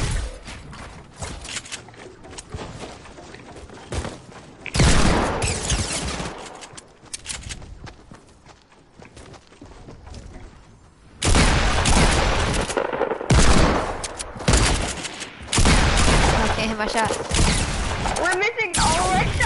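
Gunfire in a video game comes in loud stretches of rapid automatic bursts, broken by quieter gaps, while players talk over the action.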